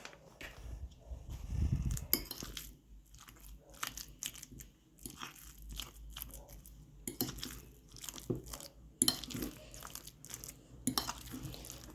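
A salad made with melted processed cheese is stirred in a bowl, with close, uneven crunchy scraping and clinking of a spoon against the dish in irregular bursts, and no talking.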